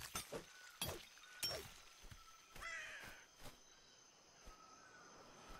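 Bird cawing in the Atlas game at sea, a series of loud, harsh crow-like caws in quick bursts, followed by a softer rasping call and quieter scattered sounds.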